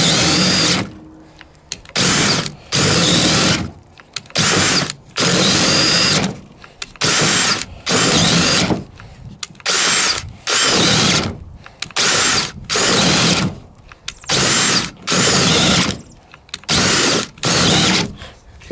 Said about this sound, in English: I've had to back up several times to get that hole through with the DEWALT.